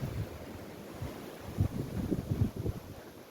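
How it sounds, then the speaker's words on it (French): Strong storm wind gusting around a parked camper van, a continuous low roar with buffeting surges that swell and thump against the microphone, loud and close, with no voices. "Des rafales de l'espace."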